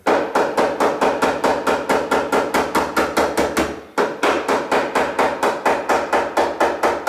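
Rapid, evenly spaced light hammer taps on the metal boot skin of a classic Mini, a long steady series with one brief pause midway before the tapping resumes at the same rhythm.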